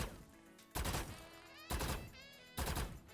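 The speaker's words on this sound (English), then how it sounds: "You could do like a burst fire," Burst-fire gunfire in the tactical shooter Valorant, three short, loud volleys of rapid shots spaced under a second apart, each dying into a brief ringing tail, with no voices.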